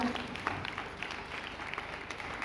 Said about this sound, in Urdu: اب زوردار تالیاں خداوند کے لیے، ہاللیلویا